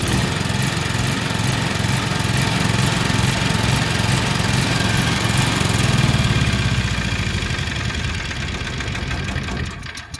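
A Generac generator engine starts and runs loudly and steadily for about ten seconds, its governor hunting so the engine speed surges and sags, with the sound tapering slightly near the end.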